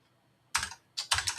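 Quick bursts of keystrokes on a computer keyboard while coding a Python login check: one short clatter, a pause, then a faster run of several loud, close taps.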